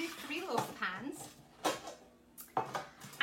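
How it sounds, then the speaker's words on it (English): Metal loaf baking pans clank and scrape as they are handled in a kitchen. Several sharp metallic knocks ring out between quieter rattles, with a voice briefly audible nearby. "So let me get my baking pans."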